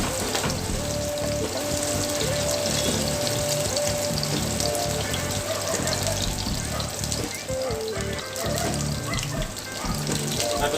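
Chopped ginger sizzles steadily in a hot pan, a continuous crackling fry that stays fairly loud and even throughout, with faint background noise and a voice briefly underneath.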